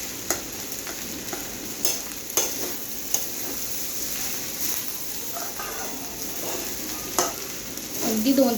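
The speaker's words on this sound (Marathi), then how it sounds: "आता आपण छान मिक्स करून घेऊया भात." Rice being stirred and mixed in a hot pan for Schezwan fried rice, a steady sizzle under repeated scraping and clinking strokes of the spatula, close and continuous with no talking.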